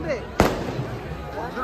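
A single sharp firecracker burst at a village festival in Basavanapura, cracking once near the start over a busy background of crowd noise and voices.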